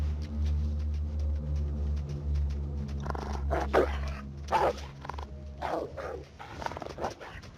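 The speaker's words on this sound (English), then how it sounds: "As long as he barks and gives us a little warning." A dog in the survival video game The Long Dark barks and growls in several loud, close bursts over a steady low in-game drone, with a growl building before sharp barks near the end.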